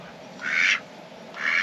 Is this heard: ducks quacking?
yes